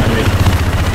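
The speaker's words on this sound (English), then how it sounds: "Enemy chopper?" An enemy helicopter in Battlefield 4 gives a low, steady rotor rumble under a player's voice, brief and close in the game mix.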